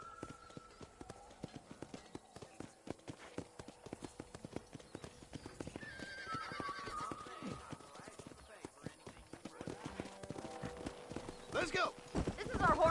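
Horse hooves clip-clop around a ranch horse corral in Red Dead Redemption, a steady rhythmic run of hoofbeats that grows louder, with occasional game sounds and music over it.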